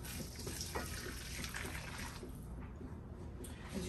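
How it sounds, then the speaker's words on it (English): Boiling water poured onto shortening for Michigan pasty dough, a steady broadband liquid rush filling a bowl, close and continuous throughout. "And 2 cups of boiling water."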